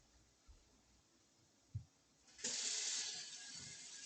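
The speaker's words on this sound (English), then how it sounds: "I'm gonna wash the hands again." Quiet knocks, then a tap opens partway through and water runs steadily into a sink as hands are washed, a soft, close, even splashing rush.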